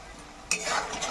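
Cumin and coriander powder with salt are stir-fried in a pan for a boal fish curry: a quiet hiss, then a sudden louder sizzling scrape as the spoon moves through the spices.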